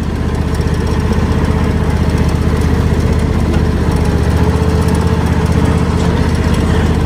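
A lawn mower engine drones steadily and loudly at close range while mowing an open field, a constant unbroken hum with no voices.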